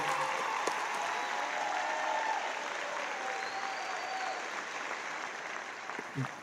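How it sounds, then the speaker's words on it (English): An audience at a high school graduation ceremony gives a sustained round of applause for student speakers, even and continuous, moderately distant and fading slightly toward the end. "Can we give another round of applause for our 5 student speakers this evening?"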